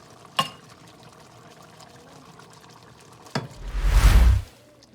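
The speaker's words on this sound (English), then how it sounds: "Alright, we're gonna pour it in the container now." A couple of sharp knocks, then a rushing, clattering pour of cooked chicken wings into a container that swells and stops after about a second.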